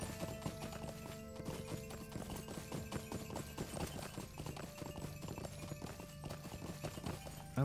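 Steady clip-clop of a horse's hooves in the online game LOTRO, a continuous trotting rhythm at moderate loudness with faint musical tones underneath.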